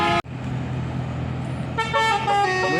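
A bus telolet horn in a passing convoy of buses sounds loud and close, first a single short blast, then after a steady engine drone a longer run of bright, warbling melodic tones.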